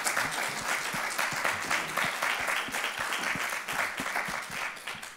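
Sustained applause from a lecture audience after a talk on Shinto, dense steady clapping at moderate distance with no voices over it.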